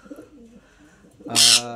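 A loud, harsh sun conure parrot screech bursts out near the end after a stretch of quiet low rustling, close to the listener.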